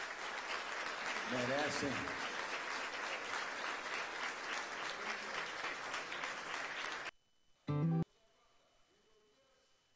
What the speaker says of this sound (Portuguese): Eu queria pedir uma salva de palmas aos vencedores.